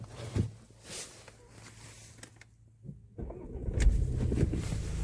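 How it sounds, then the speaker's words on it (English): An Audi A6 TDI diesel engine cranks briefly, then catches and settles into a steady idle hum after a short pause. "Start up the car."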